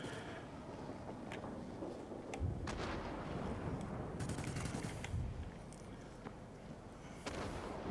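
Aircraft machine guns fire in a flight combat video game, with rapid bursts of gunfire over a constant engine and wind roar, the shots coming in several clusters.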